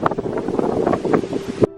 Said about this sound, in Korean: 바람이 너무 많이 불어서 서울보다 훨씬 추웠어요